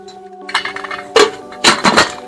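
A lid is set onto a metal pot while cooking kharvas, giving several sharp metallic clinks and clatters in quick bursts, close and loud.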